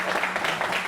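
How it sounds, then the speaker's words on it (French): A television studio audience applauds a guest, a brief burst of dense, close clapping with some voices mixed in. "Applaudissez fortement pour elle"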